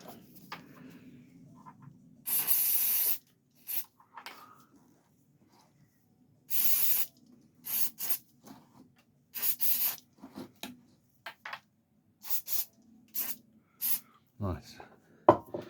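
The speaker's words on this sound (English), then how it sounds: "So let's get a bit of spray." Aerosol spray can hissing onto a Volvo XC70 propeller drive shaft on a workmate bench, several sharp bursts of one to two seconds each, close and loud, separated by quiet handling noises.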